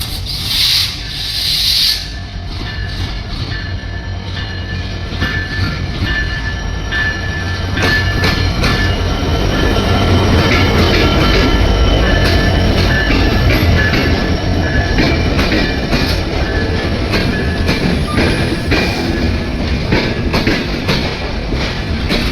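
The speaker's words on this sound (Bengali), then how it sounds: "ট্রেন চলে আসছে।" A long Bangladesh Railway passenger train with many carriages rolls past close by, a loud continuous rumble and grinding rail noise with rhythmic clatter building and holding for over twenty seconds, with no voices.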